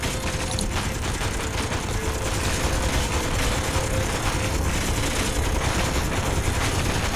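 Turrets firing continuously in Space Engineers, a dense, steady mechanical rattle of rapid shots holding at an even loudness throughout with no pauses.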